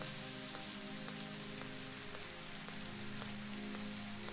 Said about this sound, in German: wo es geregnet hat oder wo es noch regnet.